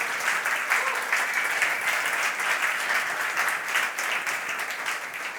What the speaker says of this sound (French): Oui, applaudissez-le, s'il vous plaît